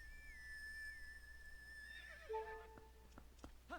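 Epona, the horse from Twilight Princess, whinnies loudly with a long wavering neigh, then a few hoof clops and snorts follow as she arrives, all fairly close with no talking.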